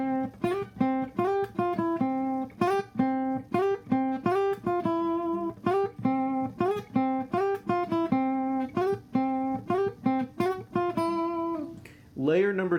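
A clean guitar plays a steady picked melody from a song, notes ringing one after another in an even rhythm, clear and close with no talking.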